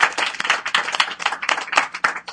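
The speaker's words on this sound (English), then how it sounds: "Give a little round of applause." A small audience at a board game design meetup gives a brief round of clapping, a few close, distinct hands beating in irregular bursts rather than a full crowd roar.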